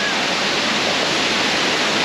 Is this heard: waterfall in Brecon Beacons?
yes